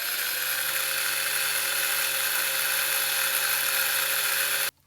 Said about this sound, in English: So yeah, let's drill some holes.